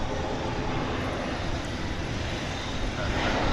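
A Qantas Boeing 787-9 airliner at DFW Airport at night gives a broad, steady jet engine roar, loud and unbroken throughout the clip.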